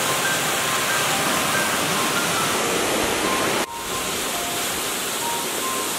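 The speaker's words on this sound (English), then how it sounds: "Water running through." Steady rushing water runs beside the Inca Trail during a long hike in Peru, a broad constant roar like a stream or small waterfall close by, with a brief dip partway through and no talking.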